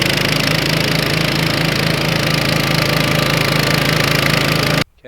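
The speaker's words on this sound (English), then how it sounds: "so just flail mow them down and get a tarp on it" A flail mower grinds down a bed of old kale and collards, a loud, steady engine roar with a dense churning drone that holds unchanged before cutting off abruptly at the very end.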